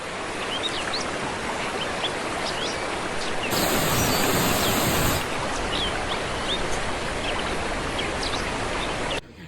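Steady broadband rush of water from Harithirthakkara waterfall near Cheruvupuzha road, Kerala, a continuous loud roar throughout with faint bird calls scattered on top and a brief louder surge in the middle.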